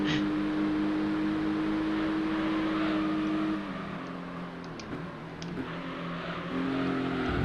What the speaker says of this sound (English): I can hear that Clio.